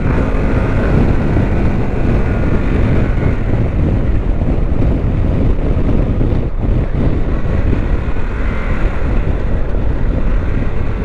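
A 2021 Harley-Davidson Pan America 1250 S motorcycle rides on the street, its engine drone buried under heavy, continuous wind buffeting on the microphone, loud and close throughout.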